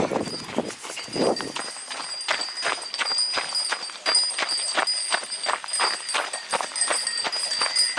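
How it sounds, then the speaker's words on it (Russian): Horses pulling horse-drawn transport in the Tatra mountains clip-clop in a quick, steady rhythm of hoofbeats close by for several seconds, with faint voices in the background. "Лошадки!"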